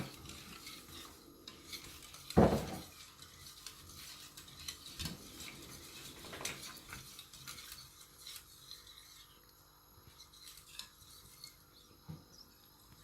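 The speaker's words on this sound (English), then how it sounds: "You have to stir it until it's smooth." A spoon stirs a cake mixture in hot milk with quiet scraping and rubbing and the occasional clink against the bowl. A sharper knock comes early on. The sound is close but faint, with no voices.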